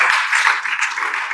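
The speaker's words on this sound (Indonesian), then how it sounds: "Tepuk tangan bagi Allah kita." A church congregation at a Good Friday service claps together briefly, a dense burst of applause filling the room that fades slightly toward the end, heard alone without talking.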